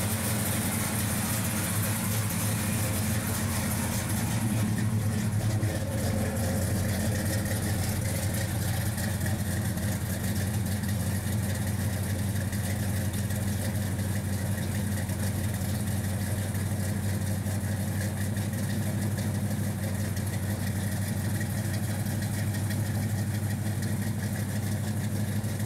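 A 1972 Chevy pickup street rod engine idling steadily, a constant low rumble with a slight change early on, close and loud throughout with no talk.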